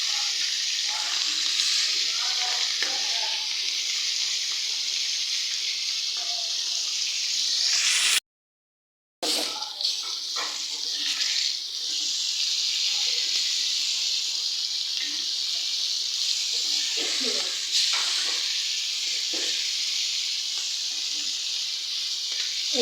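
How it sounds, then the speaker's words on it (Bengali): Bata fish frying in a cooking pan, a steady, close, loud sizzling hiss that runs throughout, with one brief drop to silence partway through. "এখানে আমি মাছ ভাজবো"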